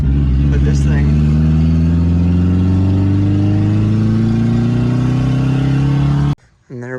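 A turbocharged widebody Mazda Miata engine under way while driving, a loud sustained drone whose pitch climbs steadily for six seconds before cutting off abruptly, then a brief quieter engine note.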